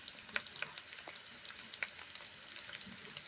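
Four small chopped onions fry in a pan for a bottle gourd ghonto, a faint, crackling sizzle broken by scattered sharp pops and light stirring taps, with no voices.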